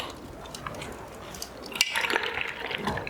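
Pasta water pouring through an IKEA strainer in a home kitchen, a soft hiss of draining liquid that surges louder halfway through, close and brief, with faint talk beneath.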